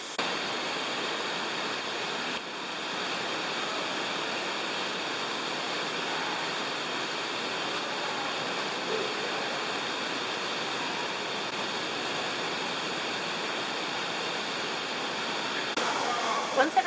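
A jungle waterfall in Belize rushes in a steady, dense broadband roar, constant and close, with no voices over it.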